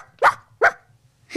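A dog gives two short, sharp barks about half a second apart, close and clear, and starts a third at the very end.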